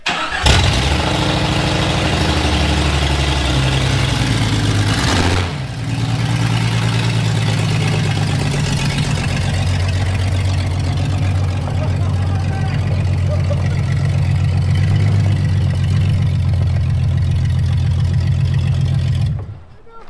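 A car engine cranks and catches, then settles into a loud, steady idle with a deep rumble that carries on close by for most of the stretch before cutting off at the end.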